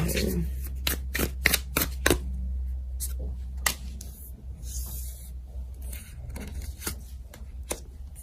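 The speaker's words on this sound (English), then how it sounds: "Let's take out one more card." Tarot cards are shuffled and drawn, giving a series of sharp, close riffling snaps and flicks in quick bursts, followed by quieter scattered card handling and slides.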